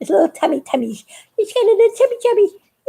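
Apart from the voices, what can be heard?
No everyday noises stand out.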